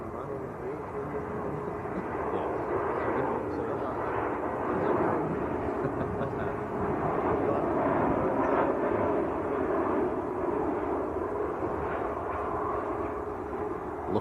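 Lufthansa Airbus A320 at Manchester Airport, a sustained moderately loud jet roar that rises and falls gently over several seconds, with people talking nearby.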